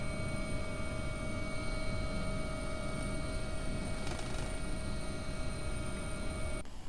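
An AW-139 helicopter flies near London Heathrow in a flight simulator game, with a constant rotor and turbine drone and a steady high whine holding evenly throughout at moderate level.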